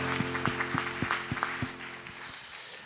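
Congregation at a Korean church overnight sermon service giving applause of praise: sharp claps land in an even, quick rhythm over sustained music, then thin out into a softer hiss near the end.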